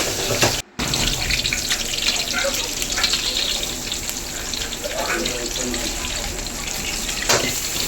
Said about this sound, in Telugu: అపోలో ఫిష్ని అయితే ఫ్రై చేసుకోవాలి పక్కన ఆయిల్ పోసుకొని